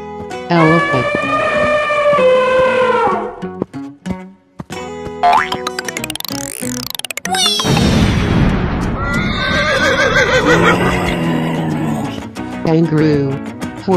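A loud horse whinny rises and falls, followed by cartoonish boing effects and a burst of noisy clattering, with more neighing toward the end.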